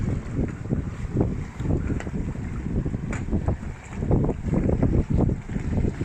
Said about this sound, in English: We've been motor sailing up quite a ways, up past the cement plant to the upper gap between Amherst Island and Prince Edward County